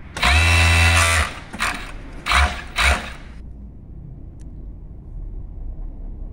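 A sewing machine sews a sweatshirt with a loud, fast mechanical whir for about a second as the pedal is pressed, then two shorter bursts follow before it settles into quiet room noise.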